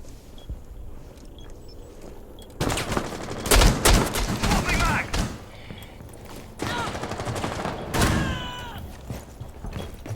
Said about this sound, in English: And Camp with another shotgun kill